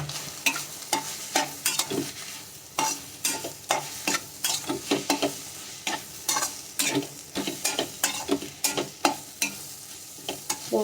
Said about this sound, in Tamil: மட்டன் சேர்த்து கொஞ்சம் நல்லா வதங்கிட்டோம்.